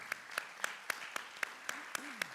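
Faint, evenly spaced claps, about nine in a steady rhythm, greet a support team at a forum panel in Buenos Aires, with light background voices underneath.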